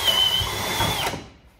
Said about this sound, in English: Why is the drill in hammer mode?